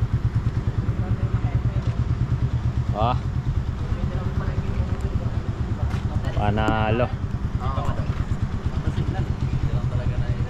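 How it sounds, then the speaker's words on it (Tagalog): Raider FI motorcycles ride along a road trip route in Bicol, their engines giving a steady rhythmic thrum throughout, with brief higher whines passing and someone speaking over the noise. "Ayan ang motor ng mga kasama."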